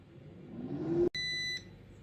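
An air fryer beeps as its brisket finishes cooking, a single bright electronic tone lasting about half a second that rises clearly above low kitchen hum.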